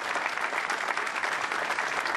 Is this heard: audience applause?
yes